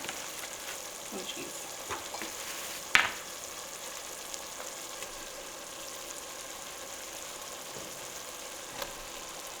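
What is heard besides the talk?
leftover turkey dish simmering in a pot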